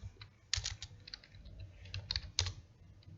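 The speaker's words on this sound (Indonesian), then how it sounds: "di sini kalau kita ketikkan perintahnya MySQL" A MySQL command is typed on a computer keyboard, producing soft, close, irregular key clicks with a few sharper taps, heard alone at low volume.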